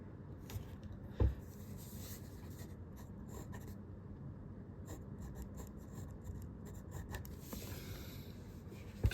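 A pen traces a Chinese character stroke on paper, giving soft, close scratchy rasps against a quiet background, with one small tap partway through.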